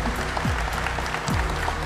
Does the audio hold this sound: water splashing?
no